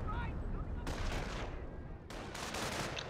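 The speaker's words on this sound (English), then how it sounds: "if these guys get anywhere near this sector, you'll see artillery drop on" An artillery barrage falls on a sector in Company of Heroes during a Germans versus Americans match on the Duclair map, with two heavy blasts a little over a second apart over a steady rumble of battle.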